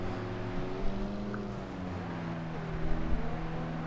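A steady engine drone with a few brief revs rising above it from a 2009 Ferrari 458 Italia sports car exhaust in the video game Forza Horizon 2, a continuous motor hum without speech.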